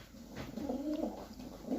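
Pigeons coo nearby in a soft, throaty, rolling call, repeated a couple of times over quiet background noise.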